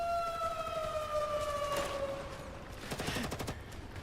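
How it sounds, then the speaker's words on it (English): In the video game Girls Frontline 2: Exilium, a loud two-tone alarm wails for a couple of seconds before rapid bursts of gunfire crack out, distant and reverberant. "an ear-splitting alarm goes off in the northeast, followed by a vicious burst of gunfire"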